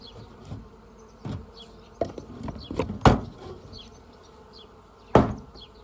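Bees hum and drone steadily close by as they fly out of a hive at an apiary, punctuated by a few sharp wooden knocks and bumps.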